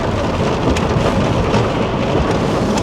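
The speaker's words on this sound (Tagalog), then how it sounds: "Ang lakas ng ulan." Heavy rain pours steadily and loudly, close by, with rumbles of thunder rolling underneath, during a rainy spell in Canada with no voices.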